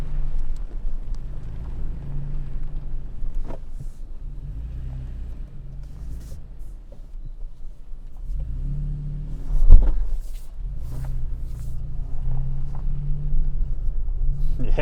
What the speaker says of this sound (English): I'm going to drop my front wheel down in this ditch right there.